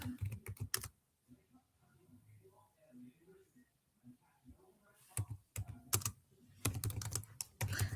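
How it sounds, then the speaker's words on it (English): Rapid keystrokes on a computer keyboard in dense bursts at the start and end, close and clear, with soft faint chatter in the quieter middle stretch. "I'm just typing stuff in"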